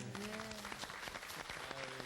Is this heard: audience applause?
yes